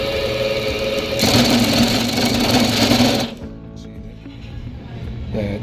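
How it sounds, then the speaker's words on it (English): An Empire EMP 2 A bagel former machine running with a slipping roller and its chain sliding on the wheel, giving a loud, rapid mechanical clatter that abruptly drops to a quieter hum and rattle after a few seconds. "this big roller right here starts to slip. It's a lot of racket and it's just not rotating at all."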